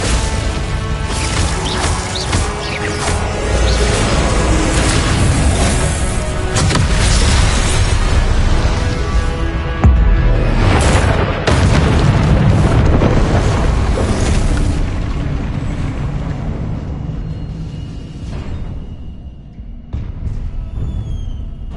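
Spell blasts in Hogwarts Legacy on PS5, a dense, loud barrage of booming explosions and crashing impacts rolling continuously through the fight with heavy low rumble, no voices.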